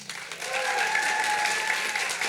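A crowd at an event claps steadily, a dense continuous patter of many hands that swells after a brief start and holds loud throughout, with a faint voice beneath.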